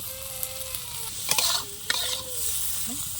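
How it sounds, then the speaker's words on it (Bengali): Prawns coated in turmeric and salt fry in hot oil in a home kitchen, a steady sizzle with a few louder spatters and the clatter of stirring, with no talk. "একটু হলুদ দিয়েছি, চিংড়ি মাছ লবণ দিয়ে ভেজে নেব।"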